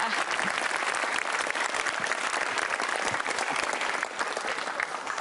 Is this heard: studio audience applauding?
yes